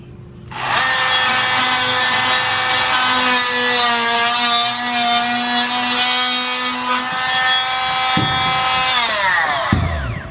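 A power tool cuts and trims a wooden shelf part to fit in a workshop, one continuous loud, steady whine lasting several seconds before winding down, close up with no voices.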